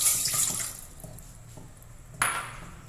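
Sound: water poured into a pot on the stove

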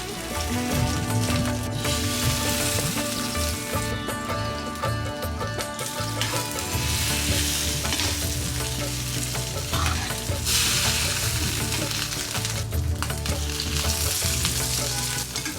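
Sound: eggs frying in hot mustard oil

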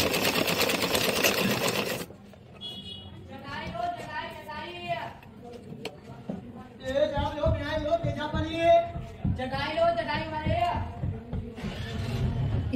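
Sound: sewing machine stitching a neckline strip

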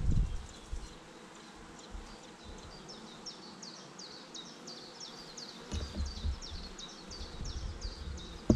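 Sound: honey bees buzzing at a hive

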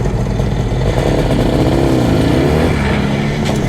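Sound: IZh Jupiter 400cc motorcycle with two carburetors riding

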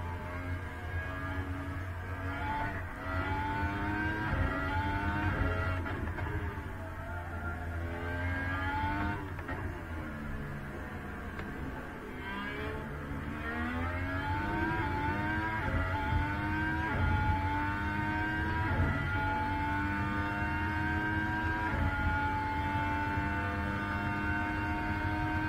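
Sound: Formula 1 cars racing wheel to wheel in testing

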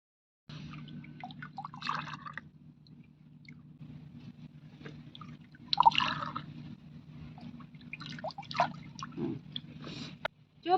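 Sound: pouring drumstick leaf soup

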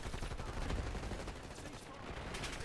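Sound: gunfire in Black Ops 6 video game

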